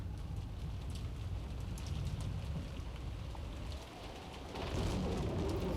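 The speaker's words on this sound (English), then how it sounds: "I hope the rain picks up again." Steady rain hisses in a dense, continuous wash in the Umineko no Naku Koro ni video game, dipping briefly before swelling louder near the end, with no voices over it.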